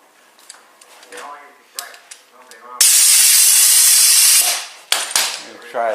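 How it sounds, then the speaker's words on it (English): Compressed air and spray cleaner blown into a chainsaw, one loud continuous hiss lasting about two seconds, with talk before and after. "Try to blow a little bit of cleaner in there."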